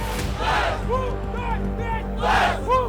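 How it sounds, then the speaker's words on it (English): An esports crowd at a BLAST Counter-Strike event roars and chants in bursts, a dense mass of voices with rising whoops and shouts swelling and fading over a few seconds. "our crowd making noise with us"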